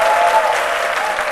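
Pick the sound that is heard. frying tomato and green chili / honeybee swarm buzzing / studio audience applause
studio audience applause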